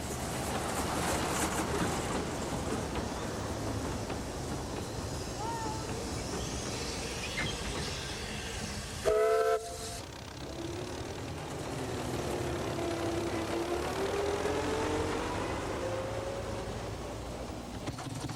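Simplex Motor Rail diesel locomotive, a 20 to 28 brake horsepower Second World War-era machine, runs with a steady rumbling rail noise, a brief sharp squeal midway, then continues rolling.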